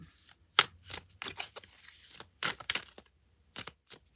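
Tarot cards are shuffled and drawn in quick, crisp riffling bursts with short gaps between them, close and clear with no voices.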